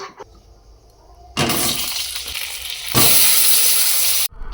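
Pitha rice cakes fry in butter with cumin and chili, giving a loud, steady sizzle that comes in two bursts, each stopping abruptly, with quieter kitchen clatter before them.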